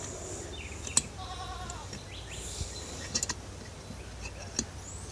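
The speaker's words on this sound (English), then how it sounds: "Ignore the stupid goat." A goat bleats a few times in a workshop where an engine is being taken apart, the bleats moderately near and fairly faint against a quiet, hissy background with occasional sharp tool clicks.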